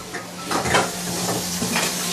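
Oil heating in a pan on a stove before okra is stir-fried: a continuous hiss and crackle with small clinks and scraping of the pan, moderately loud and close, no voices.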